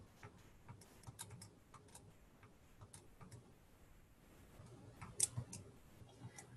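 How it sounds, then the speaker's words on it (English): Quiet computer keyboard typing, a loose run of soft irregular key clicks with a brief louder burst near the end, no talk. "I can literally type that in without having to figure it out"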